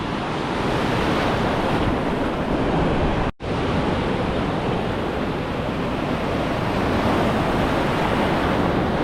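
Ocean surf roars continuously with waves washing on a beach at El Nido, Philippines, mixed with wind buffeting the microphone; a brief dropout interrupts it once.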